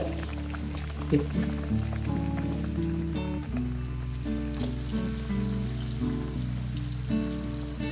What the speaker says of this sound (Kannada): ಇವಾಗ ಒಂದೊಂದನ್ನೇ ಎಣ್ಣೆಗೆ ಹಾಕೊಳ್ತೀನಿ